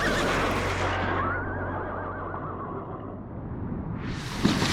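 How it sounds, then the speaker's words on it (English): Horses scream and whinny in a long, loud, shrill cry that wavers and fades, with a rushing roar of wind and storm beneath, close and intense. "the screams of the horses"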